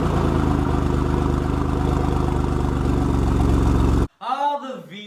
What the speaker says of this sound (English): The V6 engine.